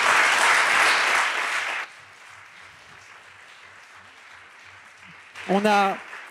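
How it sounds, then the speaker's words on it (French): An audience at a law-night event on artificial intelligence applauds the final round-table panel, a full burst of clapping that cuts off abruptly, leaving a quiet room before a voice speaks near the end. "Vos applaudissements pour cette dernière table ronde"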